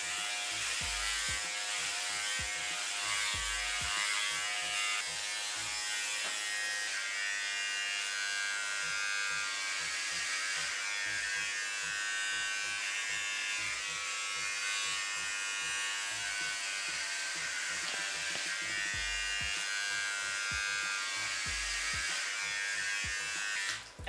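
Rechargeable electric clippers shaving a head bald, a steady close buzzing hum running continuously with slight changes in pitch and pressure as the blades move across the scalp.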